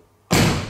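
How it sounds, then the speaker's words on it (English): A Mini Cooper's passenger-side car door swings shut with a single sharp, solid thump that rings briefly and fades, close by after a moment of near silence. "when you close the door it closes well"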